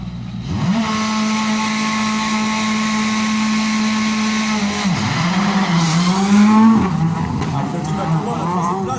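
A rally car leaves the start line of a special stage at the 2019 Rallye de l'Indre, its engine droning at a steady pitch before surging through rising and falling revs, loud and close, with a commentator's voice over it.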